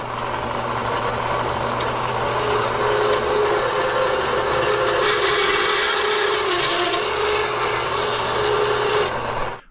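A length of 5/16 copper tubing is cut with a steady, loud rasping and grinding tool noise that runs close and unbroken for several seconds before stopping abruptly.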